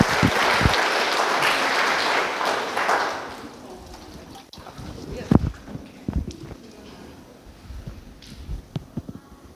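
A church congregation applauds during a worship service, with a dense burst of clapping for about four seconds that fades into scattered knocks and shuffling footsteps.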